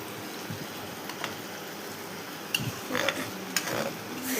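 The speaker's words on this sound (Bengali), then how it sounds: "চারবার নেড়ে ফুটিয়ে নিয়ে নামিয়ে দেবো।" Milk boiling with chopped raisins and almonds is stirred in a pot, giving a steady soft bubbling hiss with light scraping and a few faint utensil clinks.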